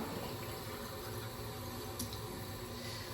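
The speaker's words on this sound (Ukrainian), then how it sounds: "Набираємо брудну воду. Це у нас водопровідна вода." Tap water runs steadily into a glass as it fills, a continuous faint splashing stream with a small clink partway through, heard alone without talk.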